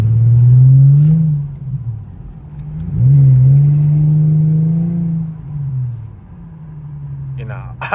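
An Infiniti G35 engine revs hard while driving: a loud, close drone climbs and falls in two long surges, then settles to a lower rumble, with a brief rattle near the end.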